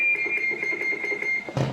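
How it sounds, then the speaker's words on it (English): Roger beep from a Galaxy DX 99V CB radio: a steady, clear electronic tone pulsing in a fast regular rhythm for about a second and a half, ending in a short burst of static as the key releases. "Your Roger beep works."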